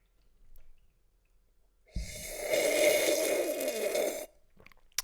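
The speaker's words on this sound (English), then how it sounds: "Would you like to listen to how it sips?" A sip of orange juice mixed with leftover coffee, heard as a single slurping, breathy draw of about two seconds, close to the microphone, with quiet moments before and after.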